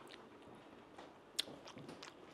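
Close, soft chewing and biting on a truffle omelette with large pieces of truffle, a few moist crunches and one sharper bite standing out against a quiet background.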